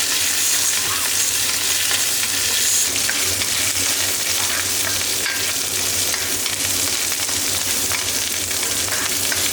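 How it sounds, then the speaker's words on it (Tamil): About 100 g of small onions (shallots) sauté in a pan with a little coriander leaf for a mutton bone curry, giving a steady, close, loud sizzle that runs evenly throughout with no talking. "பாருங்கள், வெங்காயம் இந்த அளவுக்கு வதங்கினா போதும்."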